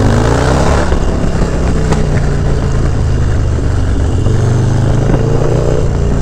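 Harley-Davidson Dyna FXDLS motorcycle riding on New York City streets, a loud, steady engine drone with low exhaust rumble and wind noise running continuously throughout, no talking.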